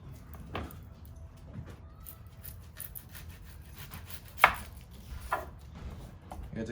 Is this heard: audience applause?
no